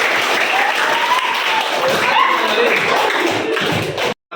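A classroom of students claps together in a fast 1-3-5 rhythmic pattern, producing a dense, loud, close burst of claps that ends abruptly.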